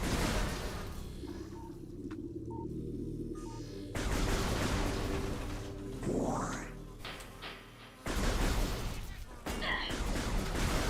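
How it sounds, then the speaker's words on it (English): In Metroid Prime Remastered, arm cannon shots are fired at a creature: several sharp blasts and bursts separated by quieter stretches, with a rising sweep in the middle and loud bangs near the end. "I just shoot him"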